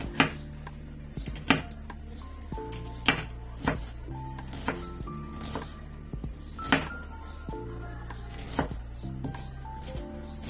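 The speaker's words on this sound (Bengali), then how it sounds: "পেঁয়াজটাকে প্রথমে ফালি করে কেটে তারপর আমরা মিহি কুচি করে কেটে নিব।" A knife finely chopping an onion on a board, with steady, close, crisp strikes repeating at a quick rhythm.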